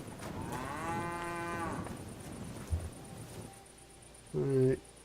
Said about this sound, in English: Oh, effing cow.